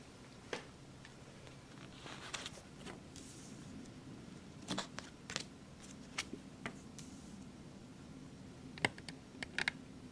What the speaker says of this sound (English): I'm going to start just cutting these cards.